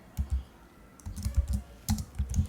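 Computer keyboard typing while writing Java code: short bursts of close, crisp keystrokes in quick clusters separated by brief pauses, with no voices.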